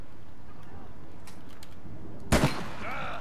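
Gunfire in the online game APB, a sudden sharp burst of two or three shots late in the clip after quiet ambient noise and a few faint clicks.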